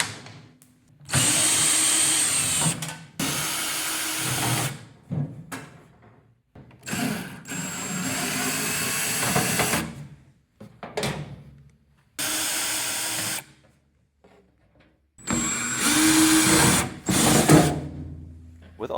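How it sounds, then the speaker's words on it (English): A 1/2-inch power drill backing Torx screws out of a microwave's outer cover, loud whirring bursts of a second or two repeated in stops and starts, with quieter gaps between runs. "it's a lot faster to fit it right into my 1/2-inch drill. Yeah, this is going to take those Torx bits out much quicker"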